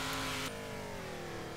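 A truck engine in Turbo Dismount revs hard on boost, a loud sustained roar that drops slightly in pitch after a sharp burst at the start, with no talk over it.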